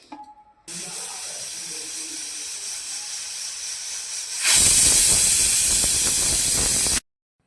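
A pressure cooker on a low gas flame, cooking Marathi-style tempered rice, lets off a steady, loud rush of hissing steam that swells sharply halfway through and then cuts off abruptly.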